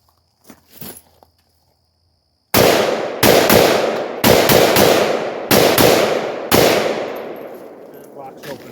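A Yugo SKS rifle fires six single shots outdoors at a steady, unhurried pace, each crack loud and near with a ringing tail, after a few faint clicks of handling.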